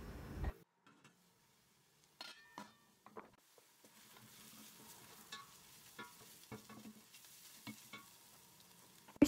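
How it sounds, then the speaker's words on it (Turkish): Chicken soup ingredients are sautéed in a pan with soft sizzling and intermittent scraping stirs from a utensil, quiet and close, with brief clinks between strokes and no voices. "kavurma işlemine devam edelim"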